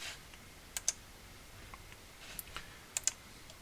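Scattered keystrokes on a computer keyboard, a handful of sharp faint clicks spaced irregularly over a quiet background with no talking.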